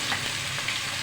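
Ginger, cumin and garlic pastes fry in oil in a pan as they are stirred, giving a steady, dense sizzle that stays close and even throughout.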